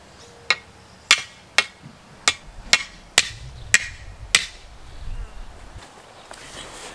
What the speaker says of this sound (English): I'm gonna start off with the 3-pound hammer that I got for forging.